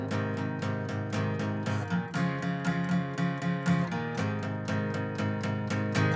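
An electric guitar plays steady eighth-note down strums on only the thick low strings, giving a dark, driving rhythm with chord changes partway through and no voice over it.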